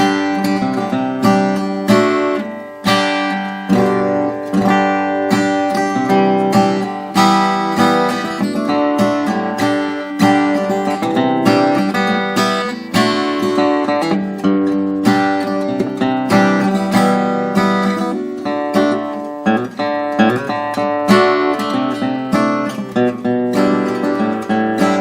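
A 1945-46 Gibson LG2 acoustic guitar, freshly set up with adjusted action and relief, plays a continuous close, loud passage of ringing picked notes and chords with steady rhythmic attacks.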